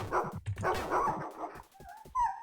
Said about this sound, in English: And we've got some dogs. They look different, and they have different sounds.